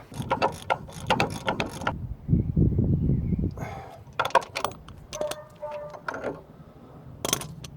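Socket and bar working hub bolts on a Ford Fiesta Mk hub: a series of close metallic ratchet clicks, clanks and tool knocks in short bursts, with a brief low grinding stretch and some faint talk in between.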